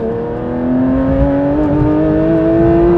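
A low-mileage Porsche 911 GT3 992 Clubsport accelerates hard on a motorway slip road, its engine note climbing steadily in pitch as it pulls. The sound is loud and continuous.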